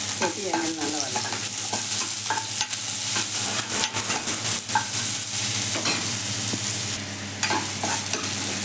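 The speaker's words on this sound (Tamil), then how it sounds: "ஒரே ஒரு வெங்காயம், பச்சை மிளகாய் போட்டு எண்ணெயில் நல்லா வதக்கணும்" Onion and green chilli fry in oil with a loud, steady sizzle close by, broken by frequent scrapes and clatters of a spoon stirring the pan.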